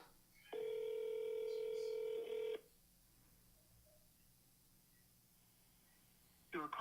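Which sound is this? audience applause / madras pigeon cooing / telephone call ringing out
telephone call ringing out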